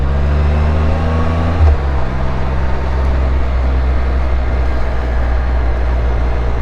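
A 2021 Can-Am Spyder F3-LTD three-wheeled motorcycle on a test ride after its first service gives off a steady, loud engine drone with road and wind noise, and its pitch shifts once early on.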